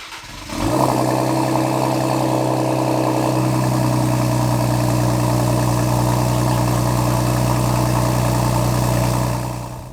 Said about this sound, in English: see how this thermal sounds with these test pipes on.